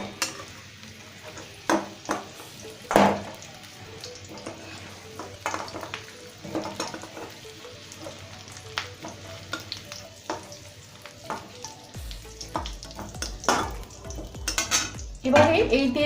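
Potatoes fry in hot oil in a kadai while a spatula stirs and scrapes through them. The sizzle runs steadily, broken by repeated clanks of the utensil against the pan, and no one speaks.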